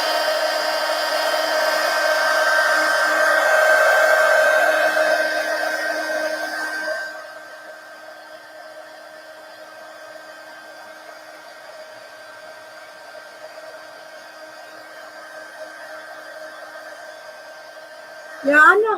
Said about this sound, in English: let me hit it with the heat gun just to kind of get it to stick just a little